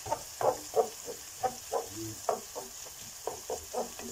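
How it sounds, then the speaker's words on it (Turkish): Tomato paste is stirred into onions and peppers frying in a pan, with rhythmic spatula scrapes and soft wet sizzling bursts at close range, repeating roughly every half second. "Salçayı da şöyle yedirelim, karıştıralım."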